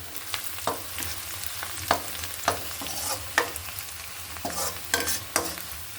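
A dried red chili hits a pan that already holds chopped garlic, giving a soft, continuous sizzle broken by a series of sharp clacks and scrapes from stirring, close and fairly quiet, with no voices.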